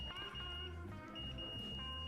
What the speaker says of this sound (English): and my multimeter beeping